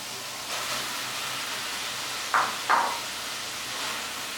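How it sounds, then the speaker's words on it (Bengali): Blended taro paste with spices fries in a pan, a soft, steady hissing sizzle close by, broken by two brief sharper bursts in the middle. "আমি যেহেতু ব্লেন্ড করেছি মশলার সাথে ভালোভাবে মিশিয়ে নিয়ে ভাজা হতে কিন্তু বেশ খানিকটা সময় লাগবে"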